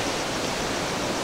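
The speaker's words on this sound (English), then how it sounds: "because the river washes away on a regular basis" A river flowing through the town of Batopilas, Mexico, heard as a steady, full broadband rush of water that stays even and fairly loud throughout, with no voices.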